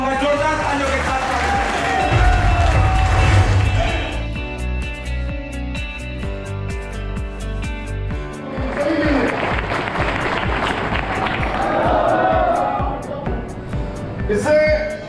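Audience applause and cheering greet a guest, Mithun Sadhu Khan, called onto the stage at a corporate event. The sound is a loud, sustained crowd noise with a brief dip in the middle before it swells again.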